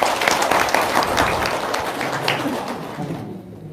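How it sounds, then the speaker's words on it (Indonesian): An audience at a business talk breaks into steady applause, dense clapping that holds for a few seconds before tapering off near the end. "Tepuk tangan dulu dong."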